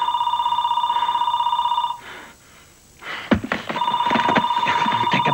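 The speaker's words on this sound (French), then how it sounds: "Répondez au téléphone" A telephone rings with a loud electronic trill, pauses briefly, then rings again while muffled movement and thumps sound in between.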